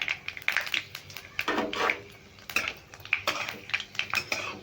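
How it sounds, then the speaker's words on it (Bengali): A bay leaf and five-spice (panch phoron) are stirred in a pan for a vegetarian papaya and potato curry, producing repeated close metal scrapes and clinks over a faint sizzle, with no talking. "ওটা খুব ভালো করে নেড়ে ভেজে নিচ্ছি"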